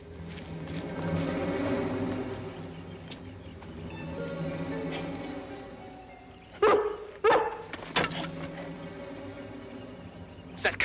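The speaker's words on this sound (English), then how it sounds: "It's that collie again." A collie barks a few sharp times from a short distance, the barks standing out over a low rumbling background.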